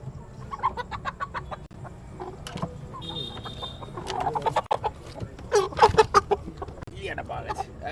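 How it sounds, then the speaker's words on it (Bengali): Chickens clucking at a poultry shop in India, with repeated close clucks and squawks throughout, growing busier toward the end, while people talk nearby. "এই ভাই ভালো ভালো মুরগি আছে।"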